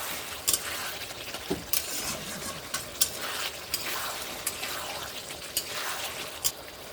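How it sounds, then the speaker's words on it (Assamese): Lamb pieces fry uncovered in a pan as the cooking water dries off. A soft, continuous sizzle runs under sharp intermittent clinks and scrapes of stirring, fairly quiet and close, with no talking. "এতিয়া মই ঢাকনি নিদিয়াকৈ মাংসখিনি আকৌ 2 পৰা 3 মিনিট টাইম ভালকৈ ভাজি ল'ম।"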